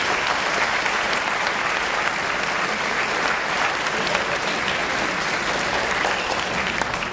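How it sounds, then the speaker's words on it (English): An audience at a Moorhead Every 15 Minutes program claps steadily and loudly for students returning to the stage, a dense, even wash of applause filling the room with no pauses. "Yeah, you can clap."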